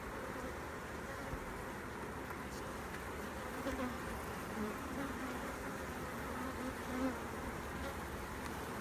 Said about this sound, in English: There's a big drone bee, big male bee there.